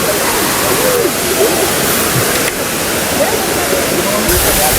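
Kintampo waterfall in Ghana roars as a loud, continuous broadband rush of falling water, steady throughout and heard up close, with faint voices blending into the noise.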